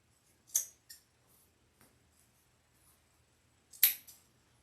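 Scissors snip through scalloped-edge 1.5 inch ribbon tails in a quiet room, two crisp close cuts a few seconds apart with softer faint blade clicks between them.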